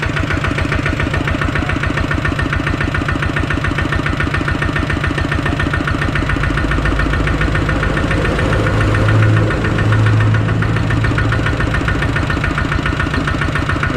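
A Kubota ZT100 tractor's diesel engine runs steadily nearby with a rapid, even knocking rhythm, loud and continuous, briefly deepening in tone partway through.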